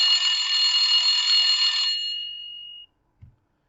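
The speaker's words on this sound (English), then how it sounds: "I chose on here the old phone ringtone, so you can hear what I've chosen here." An old-style phone ringtone from a smartphone VoIP app, a loud electronic bell trill that rings steadily for about two seconds and then fades, followed by silence and a faint click.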